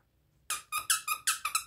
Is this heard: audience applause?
no